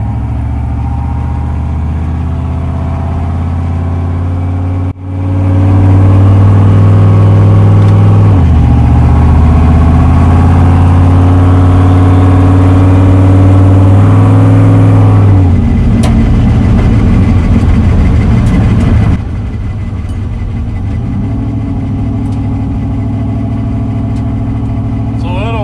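A turbocharged Mopar car with an LS engine swap revs hard and loud while driving, rising through several surges in pitch with a sharp jump near the start, then settling to a rougher drone.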